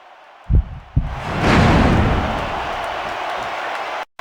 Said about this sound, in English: I love hearing the crowd come alive